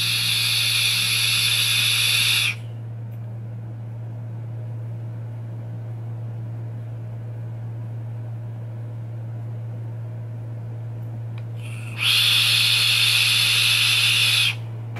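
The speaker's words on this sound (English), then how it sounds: "Listen to the sound that is coming out of this dripper." A Kangertech Xlum sub-ohm mesh tank being vaped, giving a loud airy hiss in two bursts of a few seconds each, separated by a long quiet stretch with a steady low hum beneath.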